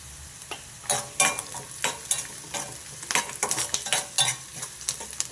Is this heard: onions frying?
yes